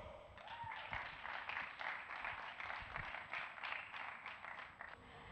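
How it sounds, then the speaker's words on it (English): Wedding guests at an evening reception at Waters Edge clap for an introduced speaker, a moderate, continuous patter of many hands in a room, slightly distant. "Big round of applause."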